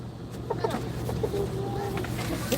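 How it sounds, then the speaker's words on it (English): Rooster and chickens clucking outdoors, a few short calls scattered through a steady low hum, with voices talking faintly in the background. "Oh, there's a rooster."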